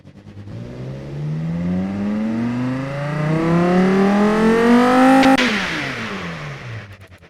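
A Dodge Viper V10 engine simulated in the Automation car-building game revs steadily upward in one long, loud pull over several seconds, peaks with a sharp shift-like break, then drops off and fades.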